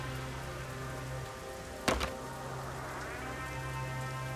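Steady rain patters in the video game Rain Code, a constant soft hiss of falling drops broken by a brief sharp clatter near the middle, then the even downpour continues, quiet and with no voices.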